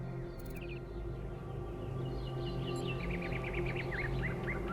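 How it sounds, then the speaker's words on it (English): Birds chirping outside a door in a video game, faint scattered tweets over a steady low ambient hum, growing into a quick run of small calls in the second half. "Do you hear the birds chirping outside the door?"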